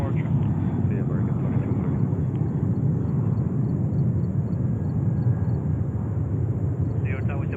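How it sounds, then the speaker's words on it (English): An American Airlines Boeing 737-800 at JFK airport produces a steady, loud roar of jet engines, a dense broadband rumble that holds evenly throughout with no talk. "American Airlines on the 737-800 heading to Dallas, Fort Worth in Texas."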